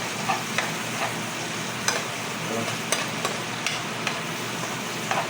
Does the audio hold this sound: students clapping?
no